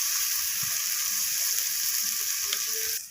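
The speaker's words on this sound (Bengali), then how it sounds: "তো সমস্ত কিছু মশলা আবারও নাড়িয়ে চাড়িয়ে নিচ্ছি আমি।" Spices with ginger paste sizzle and are stirred in a hot pan while cooking a rohu fish jhal with capsicum, mustard and poppy seed; a steady, close frying hiss runs throughout and cuts off abruptly at the end.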